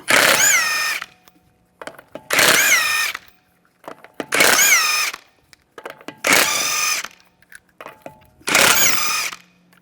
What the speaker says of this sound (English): remove the wheel, use a 19mm socket